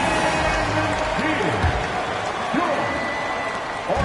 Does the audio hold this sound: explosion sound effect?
no